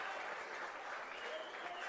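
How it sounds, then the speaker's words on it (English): Applause from players at an Australian rules football match in Adelaide, a soft, continuous patter of clapping heard from a distance, faint and steady with no talking over it. "he is taking turns at coming off to rousing applause of the West Adelaide players"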